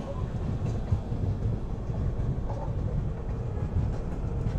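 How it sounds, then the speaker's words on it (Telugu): The Golconda Express runs parallel alongside another train entering Vijayawada, heard from on board as a continuous low rumble of wheels and carriage noise with faint rhythmic clatter, steady and enveloping throughout. "2 ట్రైన్స్ ప్యారలల్ ఎంట్రీ అవుతున్నాయి విజయవాడ లోపలికి"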